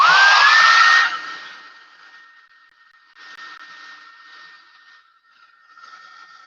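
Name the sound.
hair dryer blowing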